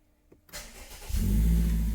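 A Myvi car engine cranks briefly after a quiet moment, then catches and settles into a loud, steady rumble close by.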